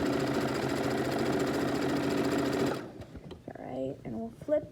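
A sewing machine stitches a fabric face mask in a fast, steady run for just under three seconds, then stops abruptly; a voice talks in the quieter stretch that follows.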